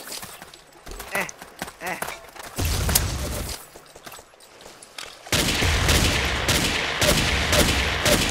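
Gunfire in the blocky shooter Ace of Spades, scattered shots followed by louder, denser bursts of firing, with players talking over parts of it.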